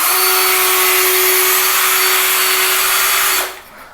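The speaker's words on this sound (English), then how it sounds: "You basically put this brush in a drill" A power drill fitted with a scrub brush spins while cleaning a bathroom, giving a loud, steady high whine that holds for over three seconds and then cuts off abruptly.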